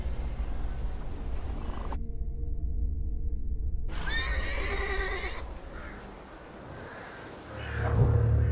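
A horse in a dark RPG video game whinnies loudly, followed by snorting and a low rumble of hoof movement, with a sudden silent gap early on.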